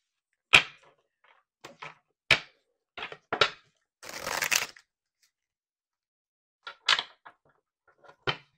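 A deck of tarot cards is handled and shuffled in sharp, separate snaps and riffles, with one longer riffling burst in the middle and quiet pauses between, close and alone.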